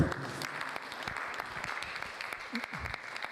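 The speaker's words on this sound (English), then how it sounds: "Thank you for clapping for us." Light clapping from a small audience at a training session for houseparents, uneven and fairly faint. Individual claps stand out over a soft background murmur.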